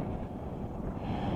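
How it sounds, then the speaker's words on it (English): Wind on a hilltop near Wellington buffets the microphone as a steady, close, low rumble with no other sounds. "A bit worried about the wind."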